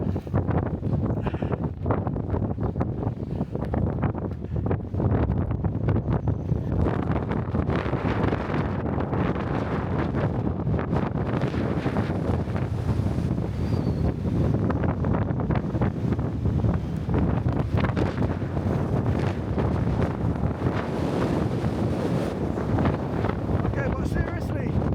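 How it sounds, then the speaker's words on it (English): Strong, continuous wind blasts across the microphone on the summit of Mount Snowdon in a dense, rumbling roar that never lets up, with faint voices buried beneath. "it's so windy, I've got to scoot down"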